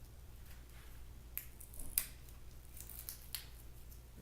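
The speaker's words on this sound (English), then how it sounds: "I'm also going to cut the stems right back." Canna and dahlia stems are cut back, giving a few faint, crisp snips of cutting blades against a quiet background.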